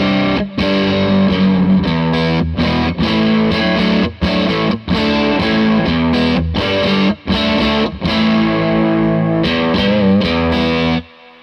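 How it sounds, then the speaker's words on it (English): Electric guitar pushed through a KO Sound Fuzz pedal and a Fuzzrocious Feed Me strums thick, saturated fuzzy chords in a driving rhythm, loud and close, ending on a ringing chord that fades. "Let's put it with the KO Sound Fuzz, which is one of my favourite fuzz pedals at the moment."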